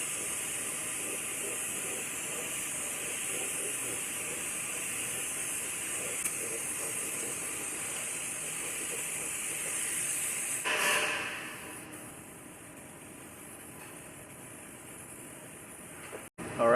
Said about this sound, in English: I'm going to coat all of this with a coat of epoxy primer.